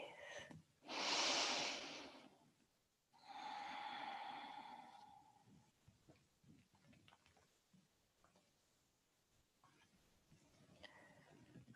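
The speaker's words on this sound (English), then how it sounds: "And breathe." Slow, deep breaths during a yin yoga session: a long, loud inhale then a drawn-out exhale, followed by quieter ambient sound with faint soft noises.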